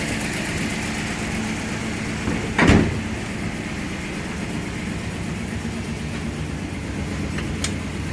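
A 1966 Dodge Coronet engine idles steadily with a low rumble while the car is backed out, close and continuous, with one brief louder knock or bump near the start and a faint tick later.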